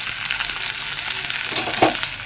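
Chopped onion and green chillies with garlic sizzling in hot oil in a pan while cooking spicy pasta, a steady crackling fry with a few small stirring clicks near the end.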